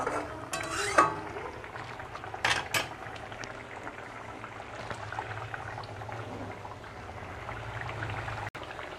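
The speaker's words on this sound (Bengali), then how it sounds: "আর একটু ফুটবে।" Egg masala curry simmering in a pan, a faint steady bubbling with light mechanical clicks and a few brief clatters early on, no talking.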